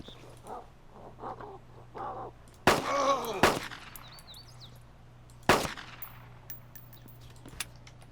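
A Makarov pistol fires in ArmA 2 DayZ: two close sharp shots ring out, then a third a couple of seconds later, each with a ringing echo. Faint calls sound earlier.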